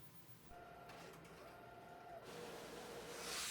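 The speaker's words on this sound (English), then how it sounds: "click Print again to send the file to the printer." A printer running a print job, with a steady mechanical whir and faint hum, some tonal motor whines starting and stopping, and a brighter feed or slide sound building near the end, quiet and without speech.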